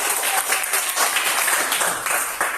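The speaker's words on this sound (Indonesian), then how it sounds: "Tepuk tangan." A classroom of students claps together after an English lesson on writing notices, brisk, close, fairly loud applause lasting a couple of seconds.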